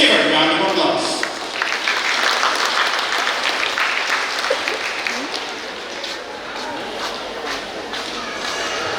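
Graduation ceremony audience giving a sustained round of applause, a dense crowd of clapping hands that stays loud and steady, with faint shuffling underneath.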